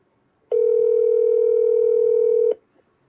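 Telephone call ringing while waiting for an answer: a single steady electronic tone lasting about two seconds, loud and clear, then silence.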